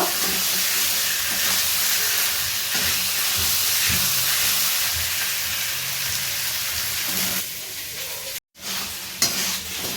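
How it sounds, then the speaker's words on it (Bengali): Chicken sizzles steadily in a pan as it is sautéed in a spice masala, with a loud continuous frying hiss and occasional stirring scrapes, and a brief drop near the end. "এবার আমি মাংসটা ওর মধ্যে দিয়ে দেবো ভালো করে সুন্দর করে মাংসটাকে কষিয়ে নেব"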